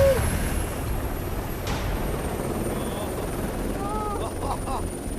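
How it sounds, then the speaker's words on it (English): Helicopter rotor blades roar steadily at close range during a chopper jump exercise, a loud continuous drone with faint voices briefly audible over it. "The chopper's rotor blades spin at around 500 revolutions per minute, creating this roar."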